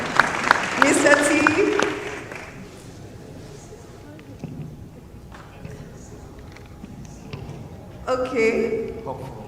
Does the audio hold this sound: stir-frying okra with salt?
no